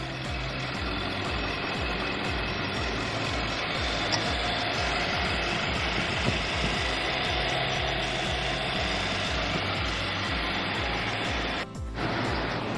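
The engine of a 2021 Infiniti QX80 Luxe runs steadily at idle with an even, rhythmic pulse, heard up close with no talking.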